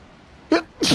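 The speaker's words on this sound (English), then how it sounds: "sneeze my ass off because of the freaking pollen" A man sneezes twice from pollen during a Yamaha F115 outboard water pump repair, two quick, close, sharp bursts about a quarter second apart against a quiet background.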